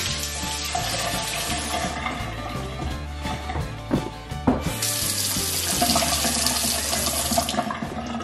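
Water runs from a tap in a half bath, a steady broadband rush that swells louder partway through and continues alone without talk.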